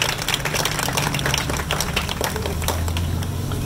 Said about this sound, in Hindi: तालियां बजा दीजिए इस बच्ची के लिए।